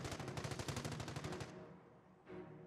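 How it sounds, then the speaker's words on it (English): A rapid burst of automatic gunfire in the PC strategy game Company of Heroes rattles for about a second and a half, then fades, followed by a single distant shot. "Did I hear gunfire over here?"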